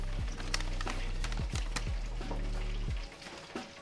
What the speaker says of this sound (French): Et on va y mettre notre cheddar râpé à fondre.